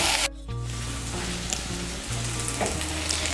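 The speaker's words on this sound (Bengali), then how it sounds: "দিয়ে টমেটো কুচি আর পেঁয়াজ কুচিটাকে ভেজে নেব।" Chopped tomato and onion sizzle and fry in a pan, a dense close crackle with soft stirring scrapes and no talk.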